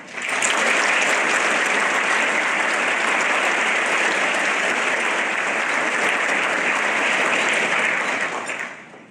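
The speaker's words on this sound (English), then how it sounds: "If you join me in a round of applause for them" An audience at an academic awards banquet applauds presidents and trustees, a sustained, even wash of clapping that holds loud and full for several seconds before tapering off at the very end.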